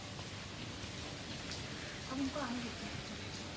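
Steady rain falls in a broad, even hiss, with a faint voice murmuring briefly in the background.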